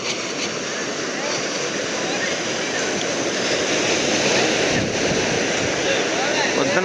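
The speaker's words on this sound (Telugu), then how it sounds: "అలలు చూడు అలలు సూపర్ కదా" Steady roar of surf breaking nearby, a continuous wash of wave noise with wind, growing slightly louder toward the end.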